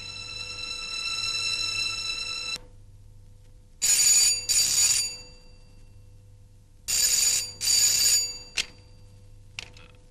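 A telephone rings in loud, close electronic bursts: a long tone first, then two pairs of sharp double rings separated by quiet gaps, with no voices present.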